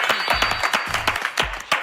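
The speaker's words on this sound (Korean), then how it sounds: "BTS 방탄소년단에게 박수를 한번 저희" Applause breaks out for BTS and their ARMY fans at a 2021 BTS Festa broadcast segment, a steady patter of clapping hands mixed with a few low thumps, moderately loud and continuous.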